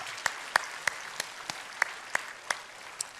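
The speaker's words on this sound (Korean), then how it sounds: "박수로 환영합니다" Church congregation at a Sunday service clapping to welcome newcomers, a sparse, slow run of single claps, about three per second, distinct and moderately distant in a reverberant hall.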